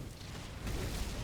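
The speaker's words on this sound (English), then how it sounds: "Nice flashbang." A flashbang bursts during a Grim Dawn battle as a dense, rumbling boom that swells suddenly midway and holds loud to the end, with no voices over it.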